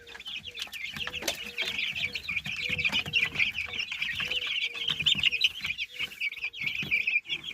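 A flock of month-old chicks peeps and chirps constantly at close range, with soft low clucks scattered throughout.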